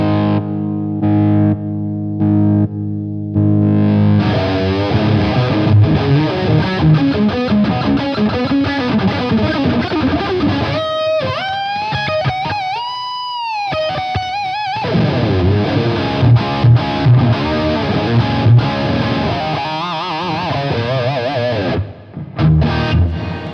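Electric guitar pushed into an amp by a Lion 1968 pedal used as a clean boost, slightly driven chords and bending lead lines with short pauses, loud and close, played alone.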